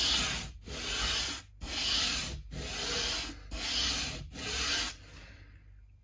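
Sandpaper rubbed back and forth on an Epiphone Dot guitar part in five steady, close strokes with brief pauses between them, ending in quiet.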